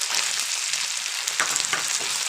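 Ginger-garlic paste and tomato paste sautéing with fried onions for a Bengali fish curry, giving a steady, close hiss of frying with light stirring scrapes throughout, no voices.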